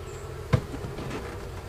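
Residual bees on the ground after a small colony's hive removal in November, a faint steady buzz with one brief louder pass close by, no talk.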